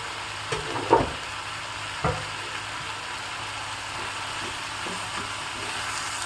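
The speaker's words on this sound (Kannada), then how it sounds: "ಚೆನ್ನಾಗಿ ಮಿಕ್ಸ್ ಮಾಡ್ಕೊಳ್ಳೋಣ" Food being stirred in a hot pan as aromatic palya with homemade rasam powder cooks, a steady soft sizzle with a couple of sharper scraping knocks near the start and no talk.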